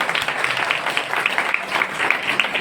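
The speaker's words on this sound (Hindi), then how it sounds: "ताली बजाकर परमेश्वर धन्यवाद करें।" A church congregation claps hands in thanks to God, a moderate, lively patter of many hands with faint rhythmic accents, sustained under a roomy reverberant sound.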